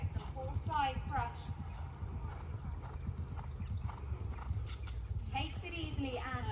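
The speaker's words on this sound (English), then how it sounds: "now galloping on to that final fence" A horse gallops toward the final fence of an eventing cross-country course, with a steady, close drumming of hooves under continuous commentary.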